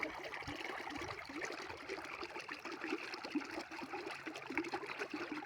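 Water flowing out of a farm pond outlet into a field, a soft continuous trickling and gurgling stream heard close by at low volume, with no voices.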